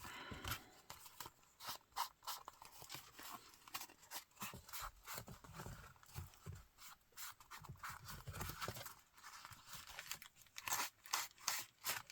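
Scissors snip through a junk mail envelope in quiet, close-up repeated cuts, with crisp clipping and paper rustling in an irregular rhythm and no talking.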